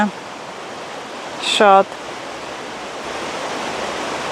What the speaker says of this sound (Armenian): գետի մոտ գետի ձայնը